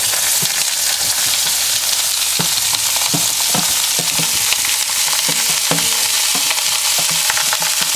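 Carrots and onions sweating in a frying pan next to browned duckling, a loud, even sizzle with frequent small crackles and spatter pops throughout, close up and uninterrupted by speech.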